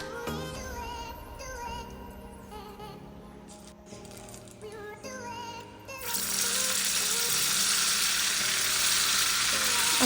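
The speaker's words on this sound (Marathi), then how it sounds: "इथे मी साईडला कढईत तेल तापत ठेवलेलं आहे." Sabudana vada balls drop into hot oil in a kadhai and set off a loud, continuous sizzle partway through, over background music.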